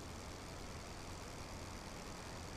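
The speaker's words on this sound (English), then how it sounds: "I hear an engine somewhere. It sounds close." Nearby aircraft engine in the World War I flight game Rise of Flight, a constant low droning rumble that fills the whole stretch evenly, fairly quiet and unbroken.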